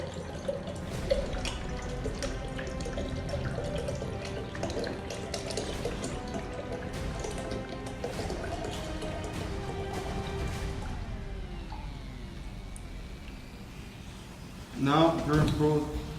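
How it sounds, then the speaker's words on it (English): Apple juice, a full liter, pouring into a container, a continuous liquid splashing stream that runs for most of the stretch, then stops with a few brief clinks near the end. "First, we put the apple juice in here."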